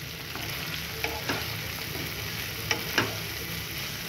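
Cherry tomato pasta sauce cooking in a pan, a steady moderate sizzle with a few scattered spoon scrapes and taps from stirring, no voices.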